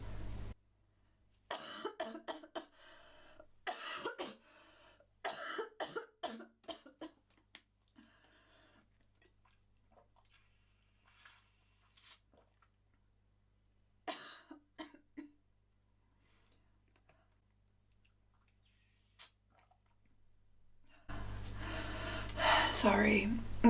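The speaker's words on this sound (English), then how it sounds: "It's chemo cough." Several bursts of chemotherapy-related coughing and throat clearing from one person, close and fairly loud, spread between quieter pauses, with some breathing and gasps.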